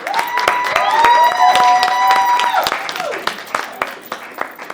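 Scattered clapping from a crowd at a graduation ceremony, with voices calling out and cheering over it before the applause thins to sparse claps.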